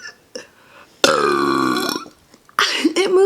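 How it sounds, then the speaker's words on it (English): A person burps loudly and at length, trying to knock small objects over with the force of the burps; two long, deep, close belches with short breathy pauses between them. "they're probably gonna hear my burps today."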